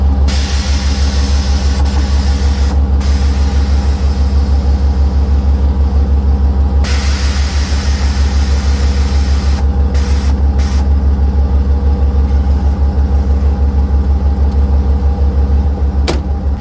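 A lifted vehicle riding on Firestone F9000 sleeve air bags mounted outboard, at max lift, drives along with a steady, loud low engine and road rumble throughout and no talking.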